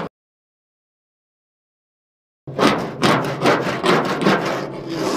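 After a brief silence, a hand scraper grinds hard rust off the body of a 1957 NSU Prinz in a rapid series of loud, rough, close strokes with no talk.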